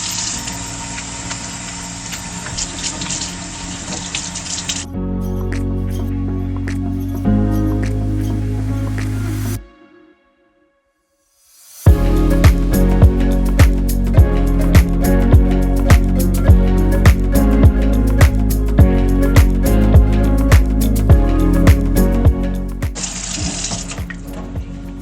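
Water runs steadily from a tap during hair washing, a loud continuous rush that briefly stops, then resumes with splashing and uneven patter as hair is rinsed under the stream.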